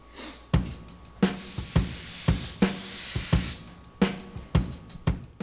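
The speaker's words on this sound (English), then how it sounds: "So we'll get to spraying. I'm going to use my Iwata HPTH." An Iwata HPTH airbrush with a fan tip sprays Createx Candy2O paint in repeated short hissing bursts, each with a sharp onset, close by, with soft clicks between the bursts.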